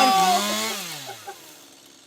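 A chainsaw engine winds down from a loud whine, its pitch falling and fading over about two seconds into quiet, with no talking.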